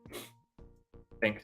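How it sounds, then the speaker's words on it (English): A single sharp sneeze near the end, preceded by a brief spoken word and a quick intake of breath. "That was a sneeze."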